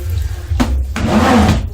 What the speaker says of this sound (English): just dump your bucket a little bit so that all the water flows out